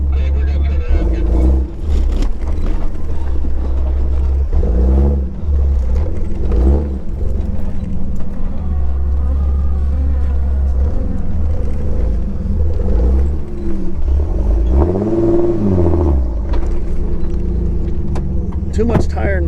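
A vehicle engine drives and turns on Wild Grape Road, a dirt quad-trail track, loud and close with steady rumbling and rising and falling revs, while people talk over it throughout.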